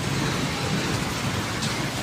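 Heavy rain falls hard and without pause at a PNR train stop, a thick, loud hiss of drops pounding nearby surfaces, with no talking.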